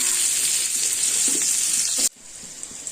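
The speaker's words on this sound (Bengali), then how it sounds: "ওই তেলে দিয়ে দিচ্ছি পেঁয়াজ ভাজতে" Onions frying in hot oil in a wok make a loud, steady sizzle that cuts off abruptly near the end, leaving a quieter kitchen background.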